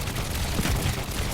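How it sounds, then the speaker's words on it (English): Cannon fire from a player-built helicopter-submarine craft in the video game Trailmakers, heard as a loud, dense burst of overlapping booming shots lasting just over a second. "the cannon will straighten out and fire forward ahead of you"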